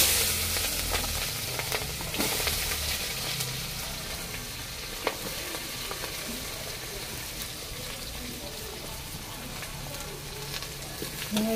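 Sliced onions frying in a pan for Tamil-style beef kulambu give a soft, steady sizzle with faint crackles, continuing evenly without talk.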